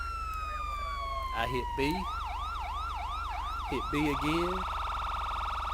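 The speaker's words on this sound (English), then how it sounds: "I hit down, siren to cut on." A police siren switched on in GTA V with the LSPDFR mod: a rising wail gives way to a rapid repeating yelp cycle and then a steady high tone, with someone speaking over it.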